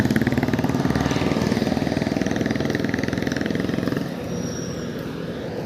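A Bajaj Freedom motorcycle engine idles close by with a steady, loud, rapid putter that drops to a softer, calmer running note near the end.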